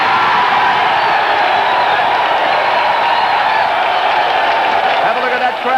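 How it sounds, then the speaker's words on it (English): A big stadium crowd at Lang Park roars after a Brisbane try in a 1982 rugby league match against Balmain, a loud sustained wall of cheering and whoops that holds steady throughout. "Have a look at that crowd"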